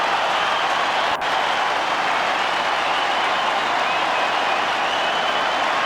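A rugby stadium crowd at a Scotland versus Wales Five Nations match roars and applauds after a try, a dense continuous wash of cheering and clapping, broad and steady throughout.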